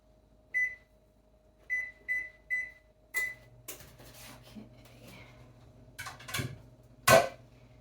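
An oven control panel being set to preheat to 350 degrees gives five short, clear electronic beeps, three of them in quick succession, followed by soft clatters and thuds of kitchen items in a quiet room.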